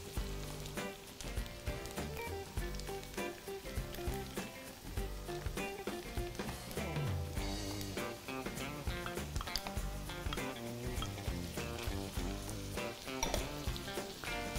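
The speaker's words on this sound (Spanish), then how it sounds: "Ahora sí, voy a cocinar todas las verduras, que todo se empape de sabor, de textura" Mixed vegetables with garlic and tomatoes cooking in a pan, a dense continuous sizzle with clattering stirring and utensil knocks, close and busy for the whole stretch, no voices.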